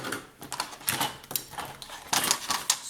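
Scissors or a craft cutter slicing through a piece of scrapbooking paper, a run of short crisp snips and rasps close up, with no talking.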